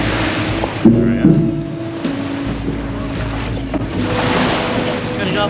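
A shuttle boat's engine drones steadily over wind and lapping water, with people talking briefly nearby.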